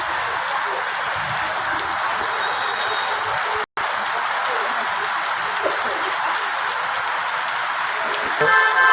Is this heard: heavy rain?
yes